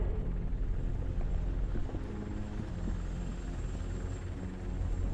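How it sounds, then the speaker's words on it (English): A TV news helicopter in the game RoboCop: Rogue City, a steady low rotor rumble and drone that holds throughout without a break, with no one talking. "That's a TV helicopter."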